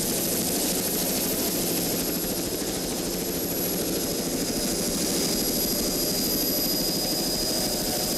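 Super V class offshore powerboat racing at speed, a continuous loud, high-pitched engine whine and roar with steady broadband noise and no pauses.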